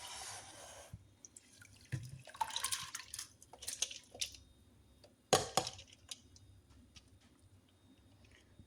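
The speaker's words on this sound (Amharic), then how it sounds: "አሁን ይሄ ውሃ ስለማይበቃው ውሃ እጨምርበታለሁ" Water is poured into a container of soaked rice, rosemary and cloves for a homemade hair treatment, heard as intermittent splashes and trickles with quiet pauses between the pours.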